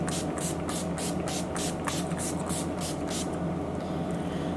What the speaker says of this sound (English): I'm gonna spray myself with a little setting spray.